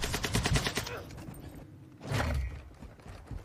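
Marksman rifle gunfire in Modern Warfare 2 crackles in a quick burst of rapid shots, followed by a lull and a second loud blast-like burst, with faint voices underneath.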